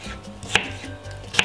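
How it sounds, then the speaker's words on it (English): A kitchen knife chops cucumber and celery into very small pieces on a cutting board, with two crisp, close chops about a second apart and no talking. "all we're going to do is cut it up like this, very small."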